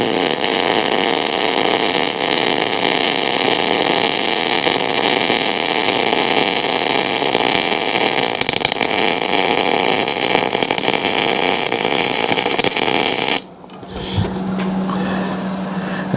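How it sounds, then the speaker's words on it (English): Arc welding a seam on a homemade sawdust blower, a steady loud crackling hiss that runs unbroken for about thirteen seconds, then stops abruptly and leaves a quieter hum of machinery. "We'll go ahead and put some more weld on here"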